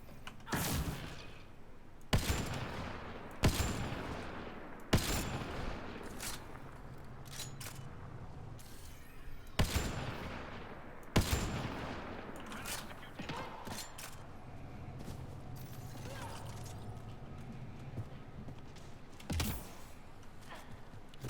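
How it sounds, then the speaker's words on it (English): Gunfire in Mass Effect: Andromeda cracks out as a series of sharp, loud single shots spaced a few seconds apart, with mechanical clatter and quieter combat noise between them. "I'll shoot blindly into there."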